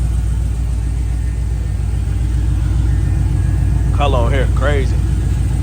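A 1971 Chevelle with a swapped supercharged LSA engine idles with a steady, loud low rumble throughout, while someone talks briefly near the end.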